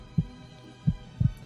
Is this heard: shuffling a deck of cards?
no